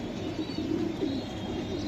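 Racing pigeons coo steadily in a loft, a soft continuous layer of low throaty calls with occasional faint chirps, close and with no talking.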